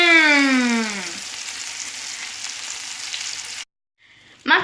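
Cod fillets fry in a pan with a soft, even sizzle that runs for a few seconds after a short voiced murmur, then cuts to silence before a brief new sound at the end.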